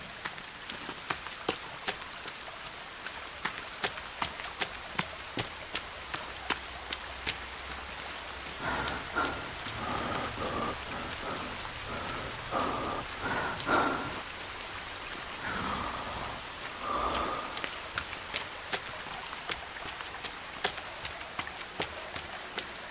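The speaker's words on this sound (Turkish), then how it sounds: "Yağmur da yağıyor ya, karakter hemen üşüyor ya." Steady rain in the survival video game The Forest, a continuous hiss with sharp drop taps scattered throughout and a louder spattering stretch midway, with no talk.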